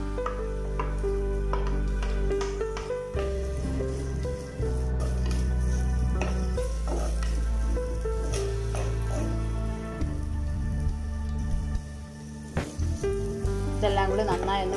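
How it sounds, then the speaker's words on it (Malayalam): Shallots, green chillies and curry leaves sauté in a pan for a Kerala-style fish curry, a steady close sizzle with occasional scraping stirs and clinks, no talking. "ഇതെല്ലാം കൂടി നന്നായി ഒന്ന് വഴറ്റിയെടുക്കാം."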